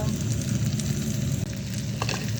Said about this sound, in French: puis on met de la viande à griller. Ici, c'est du lapin